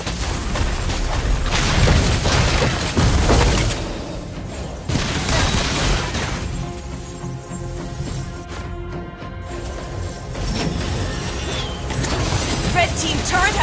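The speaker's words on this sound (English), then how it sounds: "Red team turret has been destroyed!" A turret is destroyed in a video game with booming crashes and shattering impacts amid busy game effects, with announcer-style voices speaking over the loud action.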